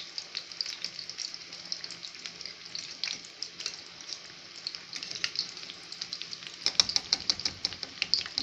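Cauliflower pieces deep-frying in hot oil, a steady close bubbling sizzle with dense crackling pops that grow busier near the end, with no talking.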